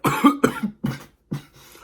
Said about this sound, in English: I apologize if I sound weird or if the coughing is distracting.